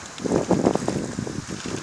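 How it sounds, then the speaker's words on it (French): Strong south-east wind gusts during a violent thunderstorm in Carpentras, Vaucluse, buffeting the microphone with loud, rumbling low roar in uneven surges. "Le vent de sud-est souffle très fort aussi."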